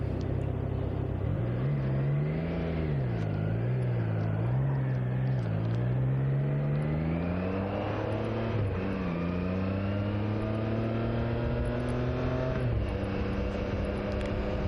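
A new Triumph Trident 660 motorcycle pulls away up close, its engine note climbing and dipping through several rev surges and gear changes, loud and continuous with no talking.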